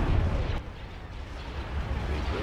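A heavy, muffled explosion booms in the space combat strategy game Awakening of the Rebellion 2.8, a dense low rumble that fades over a couple of seconds with no clear sharp onset.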